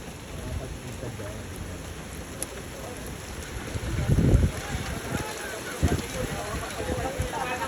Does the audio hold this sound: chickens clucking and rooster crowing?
no